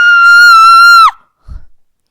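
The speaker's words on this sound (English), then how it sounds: "Suddenly the cupboard door burst open and a white ghostly figure jumped out screaming." A white ghostly figure, really a person under a sheet, jumps from a cupboard with a loud sustained high scream about one second long that cuts off sharply, followed by a brief low thump.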